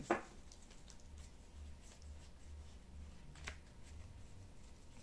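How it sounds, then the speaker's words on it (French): Tarot cards are shuffled softly at close range, a faint papery riffling and light patter with a small snap near the start, and no one speaking. "je vais tirer les cartes"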